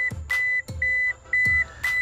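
A steady high electronic beep repeats in long tones with short gaps in a Mazda MX-3 during an RFID push-button start install, joined by a few dull thumps, loud and close.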